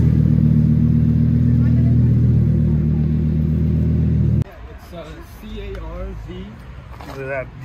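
A V10 sports car engine runs with a deep, steady rumble for several seconds close by, then cuts off abruptly, after which people talk over quiet background noise.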